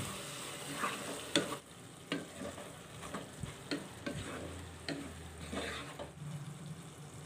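Bottle gourd fry is stirred in a pan as it cooks, with a soft continuous sizzle broken by repeated clinks and scrapes of the spoon against the pan, fairly quiet and close.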